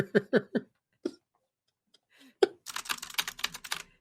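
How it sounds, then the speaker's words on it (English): A typewriter clacks in a quick burst of keystrokes, stops, picks up again with single strikes, then launches into a dense, rapid run of typing up close. "it's actually just a typewriter"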